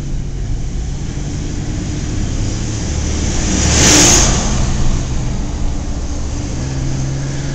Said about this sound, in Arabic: هذا كله صف سيارات على هذه المسافة اللي قطعتها، كلهم صافين بيستنوا في الدور.